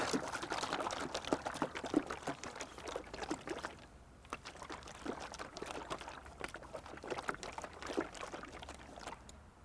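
Oil being mixed with vegetable oil in a container as diesel fuel makes a continuous close sloshing and gurgling liquid sound with irregular splashy pulses, easing slightly midway, with no talk.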